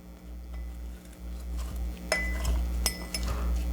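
Mint leaves and limes muddled in a glass for a mojito, giving soft irregular clinks and knocks of the muddler against glass over a steady background hum, with no talk.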